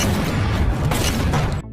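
A gunfight in an action film, with a dense, continuous roar of shots and blasts filling the short stretch at steady loudness before cutting off abruptly near the end.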